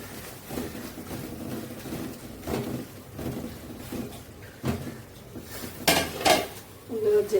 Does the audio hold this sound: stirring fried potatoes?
yes